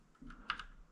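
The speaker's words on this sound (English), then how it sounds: "and I'll type the following" Computer keyboard typing at a desk: a few soft, quick keystrokes clustered in about a second, quiet and close, with no talk over them.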